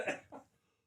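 A single close cough on a podcast microphone, a sharp burst followed by a softer second hack before fading to quiet.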